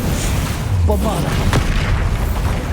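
A Bombarda explosion spell goes off in the Hogwarts Legacy video game, with a loud booming blast at about 1.5 seconds over constant game noise and low rumble, while a voice shouts briefly.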